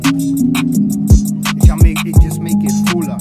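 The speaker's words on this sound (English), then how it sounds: "a piano sound. And on top of it, I have some vocal chops with the piano." A music producer's beat plays: sustained piano chords with chopped vocal snippets on top, punctuated by several deep bass-drum hits and crisp percussion, bright and loud throughout.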